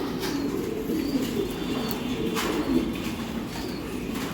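Racing pigeons at a loft give a steady low, throaty cooing that runs continuously and fairly close, with faint chirps and no voices.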